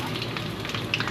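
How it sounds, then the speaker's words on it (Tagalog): Vegetables frying in buttered garlic in a pan, a steady close sizzle and crackle with a few brighter spits near the end. "lutuin ko po to sa buttered garlic"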